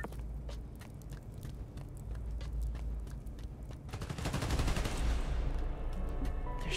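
Rapid automatic gunfire in Marvel's Spider-Man: Miles Morales, dense crackling bursts that run steadily through the whole stretch and swell louder and thicker toward the end.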